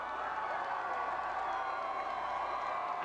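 A dense parade crowd at the Toronto Blue Jays' 1992 World Series celebration roars and cheers in a continuous, distant-sounding wash of voices, steady and unbroken.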